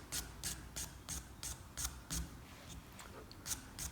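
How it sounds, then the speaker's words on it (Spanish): A guitar nut being sanded with 320-grit sandpaper wrapped on a rubber eraser used as a sanding block, heard as close, faint rhythmic rasping strokes about three per second. "utilizo una goma de borrar a modo de taco de lija"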